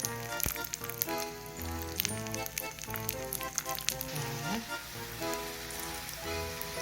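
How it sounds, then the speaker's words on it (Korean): Hot oil sizzles steadily while chwinamul, gomchi and kimchi pancakes fry, a dense rain-like crackle running throughout under music with sustained tones. "비 오는 소리처럼 기름이 들리시죠?"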